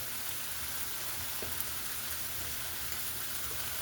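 Beef pieces searing in a hot pan for beef and broccoli, a constant close hiss and crackle with no pauses and no voices.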